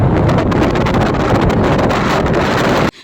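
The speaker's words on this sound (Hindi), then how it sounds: "तो सुन लिया आप लोगों ने भयानक आवाज़ समंदर की लहरों का।" At Dhanushkodi, strong wind and rough sea waves make a loud, continuous roar, dominated by heavy wind buffeting against the microphone, which cuts off abruptly at the end.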